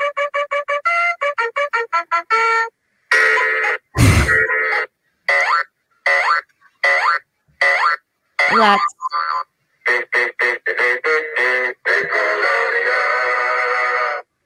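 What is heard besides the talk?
Salute Your Shorts TV theme song played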